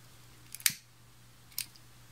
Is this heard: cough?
no